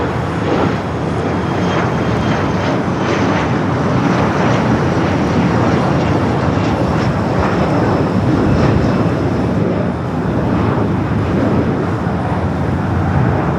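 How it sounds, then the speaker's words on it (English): A Contour Aviation airplane takes off from the south side at LAX, its loud, broad jet roar steady and close and rising slightly in the middle before easing, with no talking over it. "the Contour Aviation heading to Merced, California, taking off here on the south"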